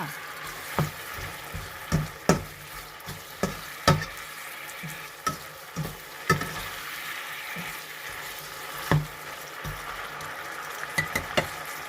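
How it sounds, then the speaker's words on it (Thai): Carrot and chili stir-fry in a wok, a steady sizzle broken by repeated sharp scrapes and knocks of the spatula at an uneven rhythm, close by with no talking. "ก็ผัดทุกอย่างให้เข้ากันดีค่ะ"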